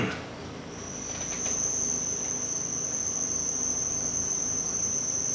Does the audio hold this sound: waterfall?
no